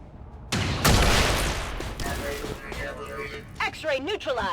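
Sharpshooter firing on a mech in XCOM 2, a loud sharp shot with heavy rumbling impact and debris that decays over a few seconds, followed by warbling electronic tones.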